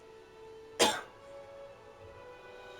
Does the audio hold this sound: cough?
yes